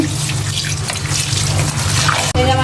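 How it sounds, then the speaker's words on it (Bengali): Leafy greens are washed in running water, a steady close splashing and trickling with no talking, ending in a brief knock. "এখন ধুয়ে শাকটা আমি ধুয়ে নেব"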